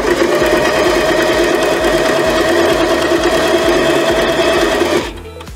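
Singer Tradition 2250 domestic sewing machine stitching through six layers of medium-weight denim, a fast, loud, steady mechanical whir with rapid needle knocking that runs evenly, then stops abruptly near the end.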